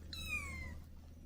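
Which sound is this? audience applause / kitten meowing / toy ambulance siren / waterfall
kitten meowing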